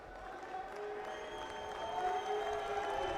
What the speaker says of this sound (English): Big cheers from the Luxembourg crowd